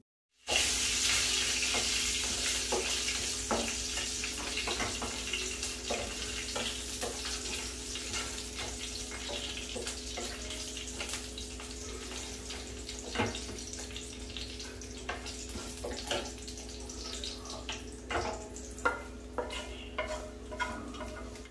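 Tempering for dal sizzles in a pan with a continuous crackling fry and irregular sharp pops and stirring clicks throughout, close and moderately loud, with no talking.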